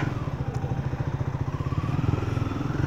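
A Triumph Speed 400 motorcycle pulls away in first gear, its single-cylinder engine thudding in a steady, fast pulse close by that grows slightly busier as it accelerates.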